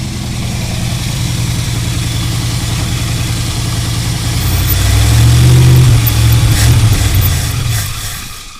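Engine of a 1984 Dodge Ram running on its own, a steady close idle that swells louder midway as it revs up, then eases back down, with no voices.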